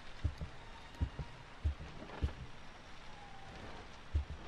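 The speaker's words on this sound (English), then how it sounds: "my footsteps sounded like a heartbeat then" Soft, thudding footsteps in the video game P.T. fall at an even pace, about seven in a few seconds, each a low dull thump like a heartbeat, fairly quiet.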